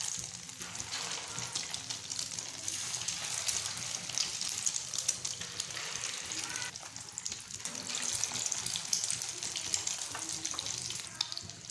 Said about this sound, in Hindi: इसको हम इसमें ऐसे डिप करेंगे और इसको फ्राई करेंगे